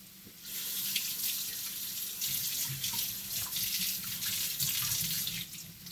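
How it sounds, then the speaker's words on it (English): Running tap water pours steadily over hands being washed at a kitchen sink, a continuous close splashing hiss lasting several seconds with no talk. "So guys, wash your hands and dry it."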